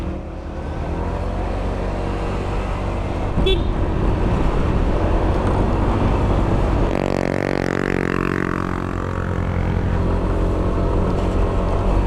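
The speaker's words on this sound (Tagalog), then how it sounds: "Kawawa makina natin dito pag puro gantong pataas." Honda PCX scooter engine straining up a very steep road on a Batangas roadtrip, a steady droning hum with wind and road noise that grows rougher and louder midway, with no voices.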